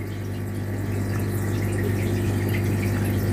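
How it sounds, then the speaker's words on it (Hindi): Water pours steadily during a half water change of a fish tank, a constant close rushing flow over a low hum, with no speech. "तो अब मैं इसका हाफ पानी चेंज करूँगा"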